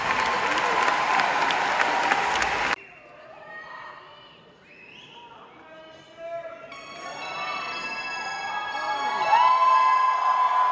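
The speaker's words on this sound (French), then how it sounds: "On l'applaudit très fort." The audience at a Drag Race France live show in Strasbourg applauds loudly and densely for almost three seconds, then it cuts to quieter sound with faint voices.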